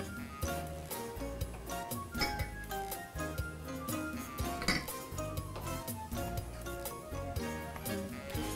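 A utensil stirring teriyaki sauce with sugar and ginger in a pan makes repeated light clinks and scrapes against the metal in an irregular rhythm, close and fairly quiet.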